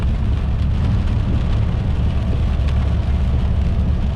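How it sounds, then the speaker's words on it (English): Steady rain falls at ANZAC Cove, Gallipoli, a loud dense wash of drops hitting the surrounding surfaces, with no voices. "It's a pity it's raining today"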